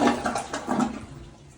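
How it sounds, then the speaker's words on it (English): A household toilet flushes close by in a house, a short gushing burst of water that quickly fades as the tank drains. "Toilet flushes."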